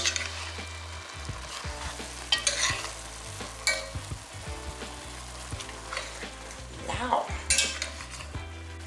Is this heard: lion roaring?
no